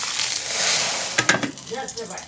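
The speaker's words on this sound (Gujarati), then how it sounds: "વઘાર કરું છું જો આ જો જીરું નાખ્યું રાઈ નાખ્યું લીમડો નાખ્યો" Cumin, mustard seeds and curry leaves hit hot oil as tempering for dal in a village kitchen, giving a close, steady sizzle broken by a few sharp crackling pops.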